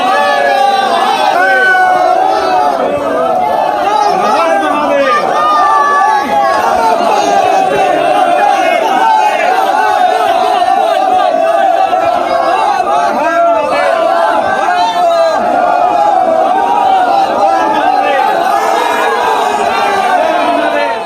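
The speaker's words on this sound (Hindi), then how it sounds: "वाराणसी में देखिए, वहां भक्तों की भारी भीड़ थी, बड़ा सैलाब था" Large crowd of Hindu devotees gathered in Varanasi, a dense, steady roar of many voices with shouts and chanting rising over it, loud and continuous throughout.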